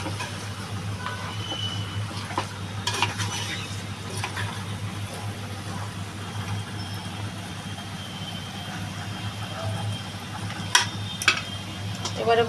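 Chicken meat poured into a handi pot and stirred, with a steady sizzle and a low hum underneath, scattered scraping clinks of utensil on metal, and a couple of sharper knocks near the end.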